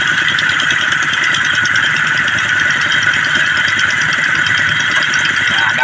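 A diesel tractor engine with a long exhaust pipe idles steadily up close, a continuous rumbling chug with a harsh mechanical rattle and no pauses.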